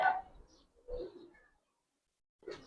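Silver Bagha pigeons coo in a few soft, low bursts with quiet gaps between, close by and fairly faint.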